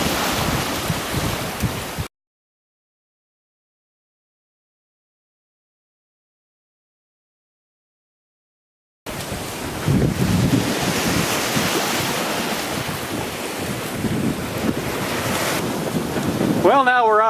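Ocean waves and wind roar against the microphone while sailing in the southern Exuma Islands, loud and steady, broken by several seconds of dead silence before the wash and buffeting return.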